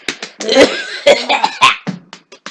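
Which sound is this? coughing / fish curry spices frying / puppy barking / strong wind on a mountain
coughing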